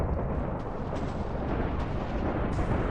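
Video game explosion, a deep rumbling blast that rolls on steadily and loudly for a few seconds without clear breaks.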